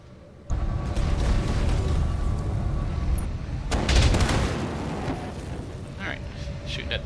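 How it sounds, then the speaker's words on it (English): Mech weapons firing in the video game Battletech produce heavy booming blasts and rumbling barrages that start abruptly and roll on continuously, with a voice speaking over the din. "shooting at the locust down there."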